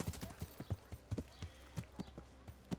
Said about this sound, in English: The nice looking horse there.